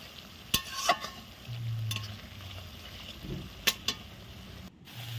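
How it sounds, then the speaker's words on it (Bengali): Chicken masala cooks slowly in a pan over a low flame, giving a faint sizzle broken by scraping and stirring strokes, with a few sharper knocks of the spoon against the pan. "মশলাটা বেশ সুন্দর করে কষিয়ে নিতে হবে।"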